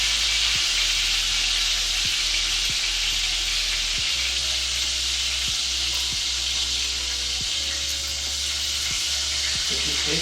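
Steak sears in a hot pan with a constant loud sizzle and hiss, broken every second or so by faint clicks or taps.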